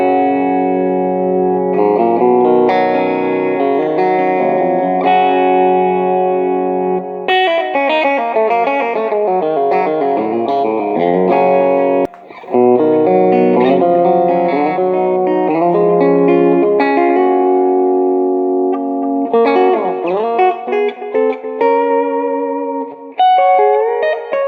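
A Music Man AX20 electric guitar on its bridge pickup at full volume plays loud, sustained chords and riffs through distorted, effected amp tone, continuous apart from a brief pause midway.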